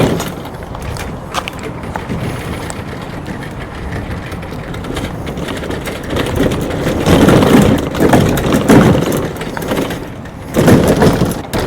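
Kayak on Boonedox landing gear fitted with SANDTRACKZ tires rolls over a rough driveway, a loud continuous gritty rumbling and crunching that swells louder in bursts toward the end.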